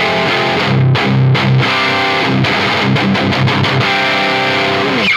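A distorted electric guitar with no reverb, delay or chorus plays chords and riffs with a thick, saturated tone, loud and upfront with no other sounds.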